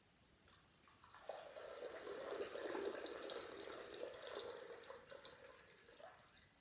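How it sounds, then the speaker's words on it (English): Water poured in a steady stream during a children's church lesson on baptism, a close, continuous splashing that begins after about a second and runs for several seconds before tapering off. "Now this is water."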